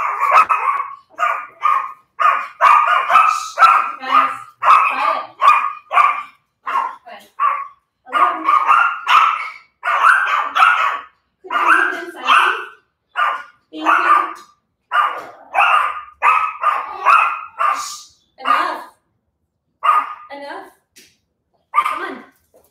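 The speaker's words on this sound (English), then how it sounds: "You guys really get a real slice of how much they like to bark when that buzzer rings" Yorkie dogs bark repeatedly at a ringing door buzzer, a loud, sustained run of sharp, high yapping barks that keeps going in rapid bursts.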